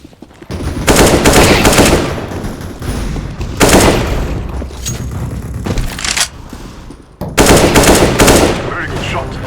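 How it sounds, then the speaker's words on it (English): Gunfire in Counter-Strike: Global Offensive comes in three loud, close automatic bursts separated by quieter gaps with faint background noise. "Very good shooting."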